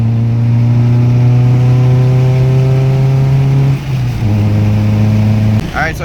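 The engine of a barn-find car, overheating, drones steadily and loud while driving, a low tonal hum that dips briefly with a gear change, as a person talks over it.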